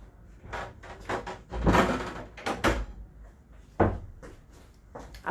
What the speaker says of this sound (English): I did leave the door open. I'll just give it a push and see if it'll stay shut.